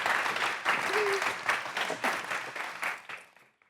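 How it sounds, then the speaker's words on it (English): A conference audience applauds as speakers Maya and Jenny come up, a dense ripple of many hands that fades out at the end, with a faint voice briefly heard beneath it. "Let's give them a round of applause."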